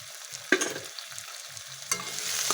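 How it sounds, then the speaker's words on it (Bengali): Spice masala with tomato paste and salt sautés in a pan, a close, soft sizzle broken by two sharp scraping stirs and faint low repeated taps. "আবারও ভালো করে কষাতে হবে।"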